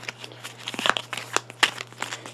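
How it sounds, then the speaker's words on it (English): A deck of secret cards from a board game is given a quick shuffle: a brief flurry of crisp, papery snaps and riffles in close succession. "I'm just going to give it a quick shuffle."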